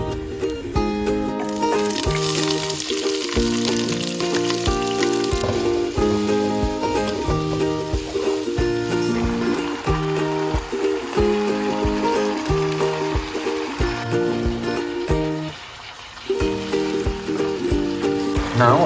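Whole spices sizzle and crackle in hot cooking oil in a pan, a steady dense frying hiss that runs almost the whole time with only a brief dip, close and fairly loud, with music playing over it.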